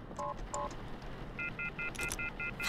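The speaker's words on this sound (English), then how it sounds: "I'm calling the police. The phone's dead!" Telephone keypad tones from The Mortuary Assistant game, two quick beeps followed by a rapid run of about seven evenly spaced dial tones, fairly faint and unaccompanied by speech.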